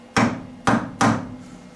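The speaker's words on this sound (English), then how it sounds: "plastic hammer" Three sharp taps of a plastic hammer on the chuck of a 9x20 metal lathe while it is being trued, each a crisp knock with a short ringing decay, close and evenly spaced.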